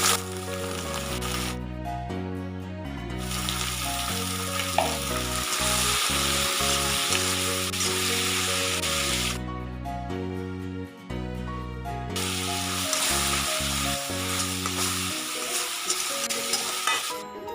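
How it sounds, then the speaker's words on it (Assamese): Chopped tomatoes and onions fry in a pan with a steady close sizzle and occasional stirring scrapes, mostly covered by loud background music with a repeating rhythm. "এতিয়া গোটেইখিনি অকণমান সময় ভাজি ল'ম"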